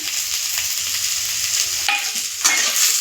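Tomatoes added to onion frying in oil, a loud close continuous sizzle with stirring scrapes and a brighter hiss partway through, no talking.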